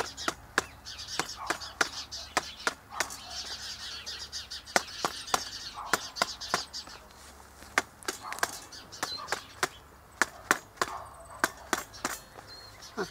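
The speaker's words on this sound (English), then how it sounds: "this bow saw, especially if you wear gloves, it makes a beautiful noise" A bow saw rasps through wood in short, uneven strokes, each one a sharp burst, with birds chirping steadily in the background of an outdoor setting.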